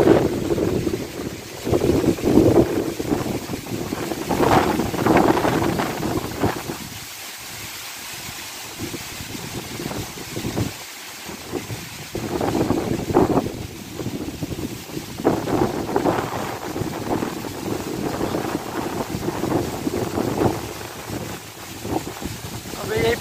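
Strong wind gusting across open country in Gaibandha, Bangladesh, ahead of a Kalboishakhi storm. The loud, rumbling buffets batter the microphone and swell and ease repeatedly throughout.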